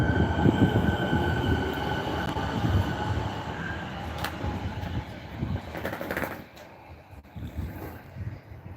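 A new-livery Siemens train rolling past, a loud rumbling roar with faint tonal whine that gradually fades and thins out toward the end.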